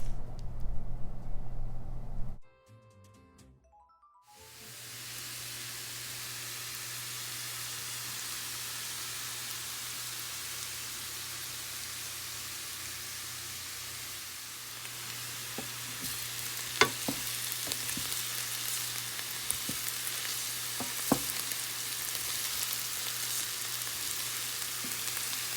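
Mirliton browns in salted butter in a pan, a steady close sizzle that starts after a short pause and continues evenly, with occasional clicks of stirring and no talk.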